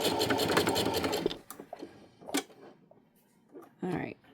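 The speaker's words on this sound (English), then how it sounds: "I'm going to stitch that 3/8 inch seam." A sewing machine runs a short burst stitching a 3/8 inch seam on a fabric storage bin, a fast close whir that stops after about a second. Scattered handling clicks and a person speaking follow.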